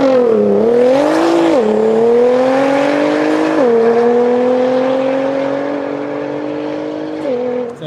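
Car tires spinning and squealing under acceleration, a loud continuous wailing screech whose pitch rises and steps up several times before fading slightly toward the end, with no talk over it.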